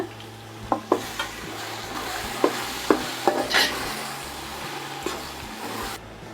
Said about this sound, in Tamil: காயெல்லாம் சேர்த்துக்கலாங்க உருளைக்கிழங்கு கேரட் பீன்ஸ் சேர்த்துருக்கோங்க இப்போ நல்லா வதக்கிலாங்க